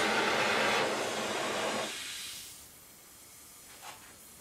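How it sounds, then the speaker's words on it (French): Oxy-acetylene torch annealing copper tube: a loud, steady roaring hiss of the flame for about two seconds, then cut off, leaving faint background with a small brief pop near the end. "Je vais le faire au chalumeau oxygène acétylène."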